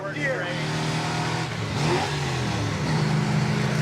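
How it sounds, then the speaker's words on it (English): A 1970 Chevelle SS 454 big block accelerates hard in second gear, its loud, steady engine roar rising in pitch as it pulls, with people talking over it inside the car. "you punch it in second gear, like even right here, we're in second."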